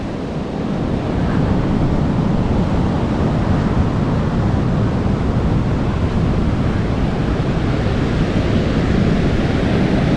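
Sea waves wash continuously onto a beach near a wrecked boat, a loud, steady roar of surf mixed with wind buffeting the microphone, with no voices.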